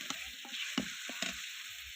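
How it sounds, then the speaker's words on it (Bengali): Meat cooked with cabbage is stirred and fried in a pan: a constant sizzle close by, punctuated by several quick scraping strokes of the spatula. "মাংসটা ঢেলে দেওয়া হয়ে গেছে, একটু ভালো করে নেড়ে নিতে হবে।"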